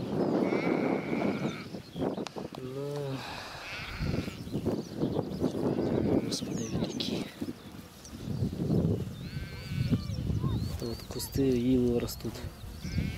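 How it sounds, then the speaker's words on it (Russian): Sheep bleat several times on a humid mountain pasture among cattle and calves, wavering calls close by, mixed with talk and rustling movement. "Овечки, коровки."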